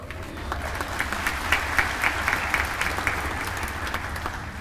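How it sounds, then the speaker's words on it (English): A crowd in a hall at a university graduation ceremony applauds continuously, a dense steady wash of clapping filling the whole stretch. "let's give them all a warm round of applause as they now leave the hall"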